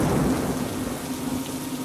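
Heavy winter rain pours onto mud-walled village houses while thunder rumbles low and continuously beneath it. The downpour is loud, dense and close, a steady hiss with no pauses and no voices.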